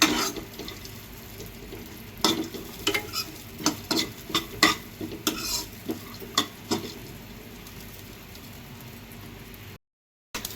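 Dry fruits roasting in a pan until reddish for homemade basundi: a soft steady sizzle under repeated scraping stirs of a spatula, irregular and close, with no voices.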